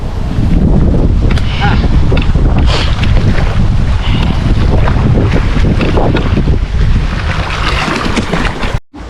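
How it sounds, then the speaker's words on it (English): Strong wind on a Norwegian beach roars and buffets the microphone nonstop, a loud broadband rush with gusty surges, cutting off abruptly at the end. "It's so windy today."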